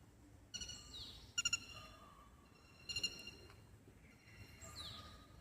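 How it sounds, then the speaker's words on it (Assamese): Sparse, distant bird calls on the leafy IIT Guwahati campus: a few short chirping bursts and trills with quiet gaps in between, set against soft outdoor ambience. "ইয়াত খালি চৰাইৰ মাতেই শুনা পায়।"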